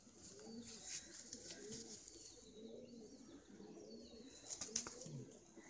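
A male brown Madrasi pigeon coos softly in a series of low, throaty calls, with faint rustling and a short flutter of wings in the background.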